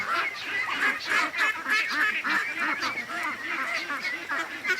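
A pen full of ducks keeps up a steady, dense chorus of quacks and honking calls, close and continuous, with several birds calling over one another.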